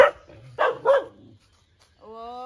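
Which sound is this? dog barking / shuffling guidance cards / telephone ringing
dog barking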